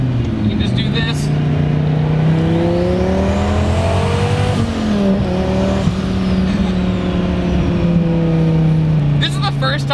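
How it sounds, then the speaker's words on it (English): A 2002 twin-turbo Dodge Viper accelerating hard, its loud engine drone climbing steadily in pitch through repeated gear pulls, heard up close for the whole stretch with someone talking over it. "This is the first time I've driven a boosted Viper"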